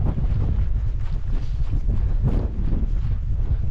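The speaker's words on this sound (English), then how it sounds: "it's bloody windy today" Strong wind buffets an exposed, flat campsite by Stickle Tarn in the Lake District, a constant low roar battering the microphone with heavy gusts throughout and no let-up.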